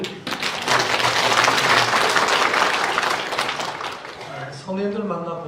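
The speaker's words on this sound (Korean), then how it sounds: "할렐루야 찬양대에서 다시 한번 박수를" Congregation applauding the church choir during a Korean church service, a dense, steady burst of clapping that fills the room for several seconds, then fades as a voice starts speaking near the end.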